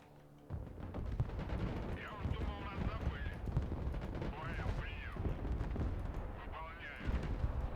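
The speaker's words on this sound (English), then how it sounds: "We're taking fire from enemy artillery, Commander." Enemy artillery fire in the video game Broken Arrow arrives as low, booming impacts and rumbling blasts that spread through the clip, with a voice speaking over the battle noise at times.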